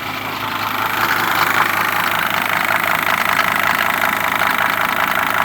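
A Mercedes-Benz 410D diesel engine idles steadily with its drive belt running, a close, loud, even mechanical hum with a fine repetitive knock and no break in rhythm.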